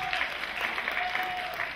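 A crowd at a student singing club's annual performance claps steadily for an alumnus being introduced, moderately loud and continuous, with a faint tone running beneath.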